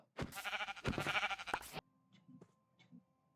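Minecraft sheep bleats loudly and nearly alone for almost two seconds, then gives way to a few faint clicks and soft game noises.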